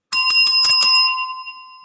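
A bicycle-style bell is rung about five times in quick succession, bright metallic dings close and loud, then one sustained ring fades away.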